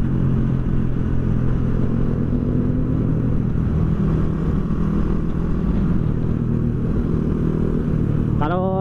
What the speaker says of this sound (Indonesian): Nah ini adanya si Iwan yang pakai Shogun SP.